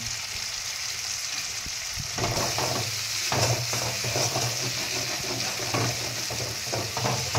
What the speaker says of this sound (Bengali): এটা একটু ভাজা ভাজা হতে হবে, ভরে যাবে, এই জন্য বারবার নাড়তে হবে এটাকে